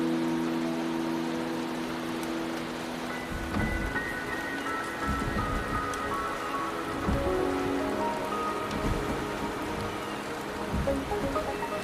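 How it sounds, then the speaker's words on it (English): Steady rain falls on surfaces in the Wuthering Waves video game, a dense continuous hiss with scattered drops and soft low rumbles throughout, no voices. "The rain is subsiding, and the sky will soon clear."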